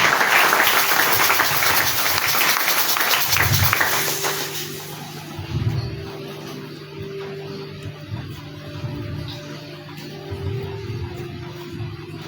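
A church congregation applauds the Lord Jesus with loud, dense clapping for several seconds, then the clapping drops away to a quieter room murmur.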